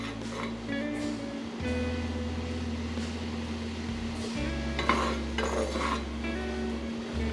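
Maple BBQ sauce being stirred in a pot on a stovetop as it starts to boil, with faint clinks and scrapes of a utensil against the pot over a steady low hum.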